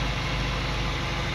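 A Toyota Starlet engine idles smoothly, a faint, steady low hum with an even rhythm and nothing else over it.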